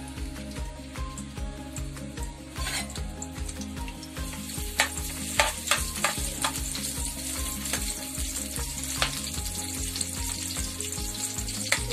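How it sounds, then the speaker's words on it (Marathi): Garlic frying in hot oil for a Malvani-style alu (colocasia leaf) bhaji, a close, steady sizzle with soft clicks of stirring running through it. "तेल गरम झाल्यावर त्यात लसूण टाकायची"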